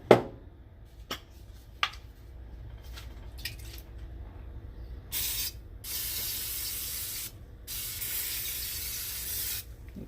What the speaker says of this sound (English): Now I'm gonna have to add a little bit more